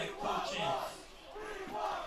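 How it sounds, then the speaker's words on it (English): A crowd at a high school varsity field hockey game at Casa Grande Field, after a tied double overtime, chants in loud rhythmic waves, the massed voices rising and falling across the stands. "The crowd chanting, "We want more.""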